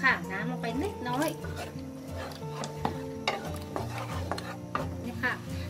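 Thai southern curry paste with chili being stirred and fried in a pot for a sour fish curry with tilapia and pineapple, with a utensil scraping and clinking against the metal under steady talk by a woman.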